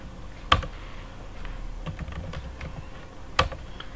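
Keystrokes on a computer keyboard while writing Android code, a sparse run of soft clicks with two louder, sharper key presses standing out, close and alone without speech.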